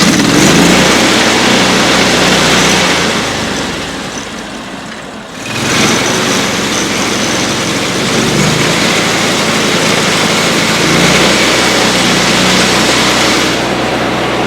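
Engine of a Mechmaxx 36-inch sawmill running steadily at a loud, constant drone with a brief dip in level partway through, no talk over it.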